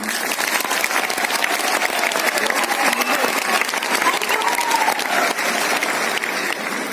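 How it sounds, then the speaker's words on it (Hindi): Loud, sustained applause from a large crowd at Talkatora Stadium during a promotional event, continuous clapping with faint cheers and a voice over the sound. "एक बार जोरदार तालियां अपने लिए"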